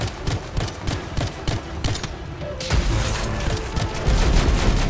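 Rapid gunfire bursts from a weapon in the sci-fi shooter game Anthem, loud and dense, with repeated sharp shots and booming impacts that grow heavier and more continuous toward the end.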